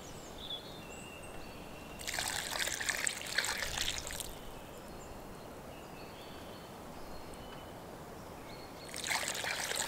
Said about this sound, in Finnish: Mä kaadan pikkasen kerrallaan